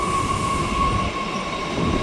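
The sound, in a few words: train passing at station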